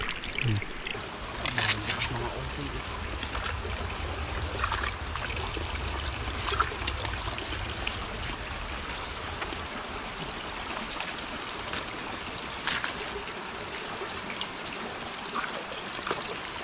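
Water trickles steadily from a spring beside a garden in a rural Philippine province, a continuous close gurgle with occasional brighter splashes throughout.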